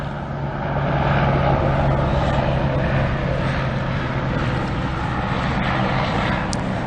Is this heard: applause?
no